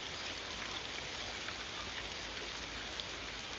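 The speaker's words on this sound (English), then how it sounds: "as you can see, it is raining now." Steady rain falls outdoors, an even, dense hiss of drops that continues unchanged throughout, close and fairly loud with no voices.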